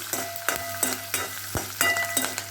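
Crushed garlic and curry leaves sizzle in hot oil for brinjal sabji, with a steady close frying crackle and a few sharp stirring scrapes of a spoon against the pan.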